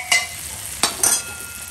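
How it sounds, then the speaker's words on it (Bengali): Ghugni spice masala fries in a pan under a quiet sizzle. Three short, sharp stirring scrapes stand out clearly over it. "ঘুগনি মশলাটা একটু কষিয়ে নিচ্ছি ফটাফট।"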